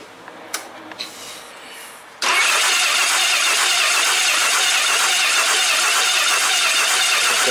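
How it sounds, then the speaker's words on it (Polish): A Honda GL1200 Goldwing motorcycle engine with ticking valves cranks with a couple of clicks, then catches and roars into a loud, steady running drone that continues to the end. "Spróbujemy teraz zakręcić silnikiem"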